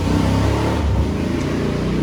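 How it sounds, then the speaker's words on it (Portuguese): A motorcycle engine rumbles past on the street, a steady low drone that rises and fades slightly, moderately loud and continuous. "Passou uma moto aqui na rua, tá, pessoal?"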